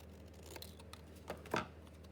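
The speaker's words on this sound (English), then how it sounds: "so I'll just cut a bit of that down" A few crisp scissor snips cutting paper to height for a pocket in an envelope journal, quiet and close, with one louder snip near the end and no talking.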